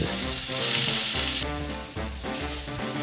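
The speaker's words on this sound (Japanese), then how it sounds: "まず焼きそばの麺だけを焼いていく。" Yakisoba noodles fry in a generous amount of sesame oil in a frying pan, giving a loud, dense, continuous sizzle that rises briefly as the noodles are stirred and loosened.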